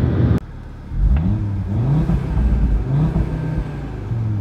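An Audi RS3 Sedan engine revs up and down in several rising and falling swells, held below about 4,000 rpm, loud and close with an earlier sharp click, no voices.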